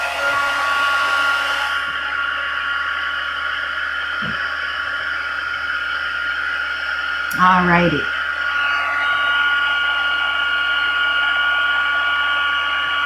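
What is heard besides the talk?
heat embossing tool blowing hot air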